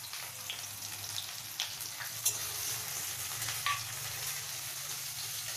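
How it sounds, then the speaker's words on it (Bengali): Onions and nigella seeds fry in hot mustard oil, a steady close sizzle and crackle with occasional small pops and faint stirring scrapes, no voices. "তেলটি গরম হয়ে গেছে এবার আমি কালো জিরে ফোড়নটা দিয়ে দেবো দিয়ে এই পেঁয়াজ কুচিগুলো দিয়ে দেবো"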